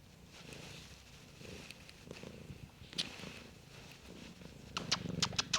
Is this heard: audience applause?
no